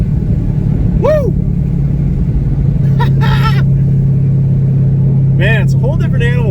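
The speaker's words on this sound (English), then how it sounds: "it's a whole different animal when the car actually hooks and doesn't just spin" Twin-turbo Chevrolet Corvette C6 Z06 on a weld drag pack launches hard with traction, a steady loud engine drone filling the clip while excited shouts and cheers break out over it.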